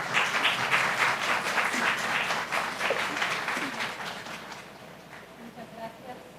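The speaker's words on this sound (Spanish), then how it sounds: "Por favor, recibámosla con un fuerte aplauso." An audience claps for an arriving speaker at a formal conference on informed consent and AI, the dense, steady applause filling the room and gradually thinning out, with a voice speaking faintly over its fading tail.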